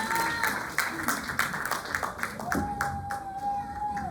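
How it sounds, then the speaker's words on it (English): Brief audience clapping at a women's conference session, distinct claps rising over a murmuring crowd with a voice talking through it. "Ladies and gentlemen, just give her another warm round of applause."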